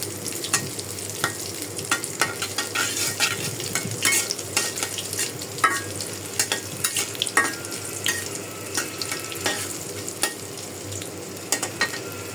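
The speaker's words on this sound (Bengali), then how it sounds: "আমি ইলিশ মাছ সরিষার তেল দিয়ে ভাজবো।" Hilsa fish frying in mustard oil with dried red chilies makes a steady, close sizzle and crackle, with scattered sharp spatters and utensil scrapes running through the whole stretch and no voices.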